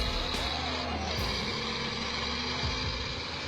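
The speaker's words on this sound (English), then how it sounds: "a truck straining" A heavy truck loaded with sugar cane labors uphill in a low, continuous roar, with a couple of brief hissing bursts over the grinding drone.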